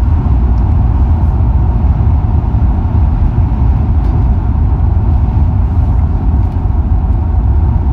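A car towing an Escape travel trailer on a road in Canada, giving a steady, close engine and road rumble with tire noise that runs unbroken throughout, with no speech.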